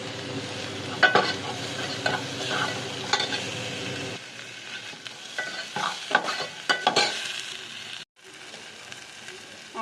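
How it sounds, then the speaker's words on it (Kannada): Tomatoes sizzle and fry in a pan on a low flame for pepper rasam, with repeated scraping and stirring strokes over the steady crackle and a short pause near the end. "ಇದು 5 ಮಿನಿಟ್ಸ್ ಆದರೂ ಫ್ರೈ ಆಗಬೇಕು"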